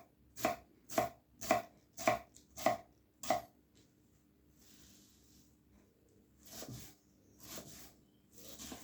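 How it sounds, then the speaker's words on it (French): A knife chops onions on a board in six crisp, evenly spaced strokes, then a pause with faint rustling, followed by a few softer, duller cuts. "on va couper les oignons"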